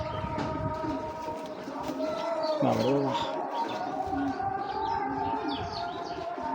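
Large racing pigeons of foreign bloodline coo faintly amid a steady, wailing tonal background and a murmur of other sounds.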